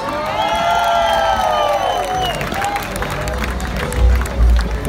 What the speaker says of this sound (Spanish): si un fuerte aplauso